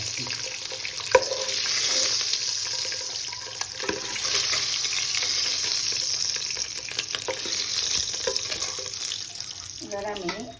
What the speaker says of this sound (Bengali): আর এই ডিমটা ভাজতে থাকি।